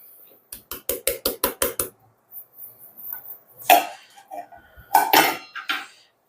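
Sugar and cornstarch being stirred in a bowl for a Parisian flan filling, a run of about ten quick rhythmic clinks of a utensil against the bowl, then scattered scraping and clatter as a voice talks.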